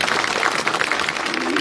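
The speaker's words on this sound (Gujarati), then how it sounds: "એના માટે જોરદાર તાળી" A crowd at a political rally in Chotila, Gujarat claps in a steady, dense wash of applause that runs the whole moment at moderate volume.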